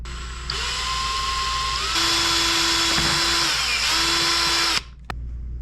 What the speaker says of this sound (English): Drill a hole for the screws.